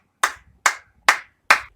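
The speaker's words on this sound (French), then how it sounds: "tous les soirs à 20h, des milliers de Français applaudissent les professionnels de santé" Four sharp, close hand claps at an even, slow pace, each crisp and isolated with silence between, like one person clapping in evening applause for health workers in France.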